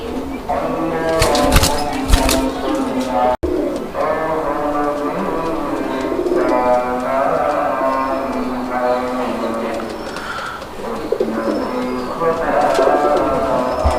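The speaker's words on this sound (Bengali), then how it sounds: "এটা হচ্ছে একটা বোম্বাই কবুতর" Bombay pigeons coo repeatedly up close, a continuous low warbling with a few sharp rustles near the start, and some voices faintly underneath.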